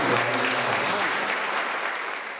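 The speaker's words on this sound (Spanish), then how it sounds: "Yo les pido un aplauso de los mercedes para ellos porque nos han ayudado." Sustained applause from a crowd at a community security council event, steady and full, with a few voices mixed in at the start, slowly tapering off.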